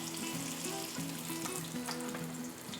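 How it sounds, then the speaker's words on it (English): Steady crackling sizzle of rolled oyster packets frying in hot grease, one or two at a time, continuous and close, with faint tonal hum underneath. "drop them into the grease."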